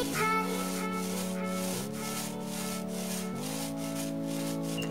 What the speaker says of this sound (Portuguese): Tô dando uma demãozinha aqui nessa parede.